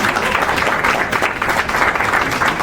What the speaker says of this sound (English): let's give everyone a big round of applause for that